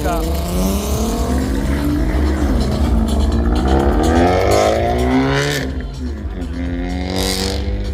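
A Volkswagen Golf 3 VR6 engine drones steadily and loudly at a car meet, and someone talks over it throughout.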